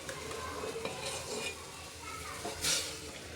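Oil heating in a pressure cooker while being stirred for tempering, a soft continuous sizzle with scraping stirring strokes, close and fairly quiet, with a brief brighter clatter near the end.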